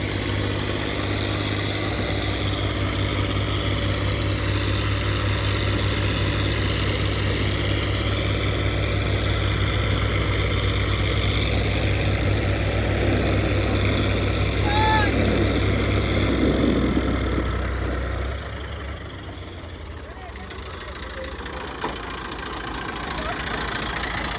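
A Powertrac tractor engine idles during a tractor tug-of-war contest with a low, steady throb and a hum, then the engine note drops away near the end, leaving quieter background noise.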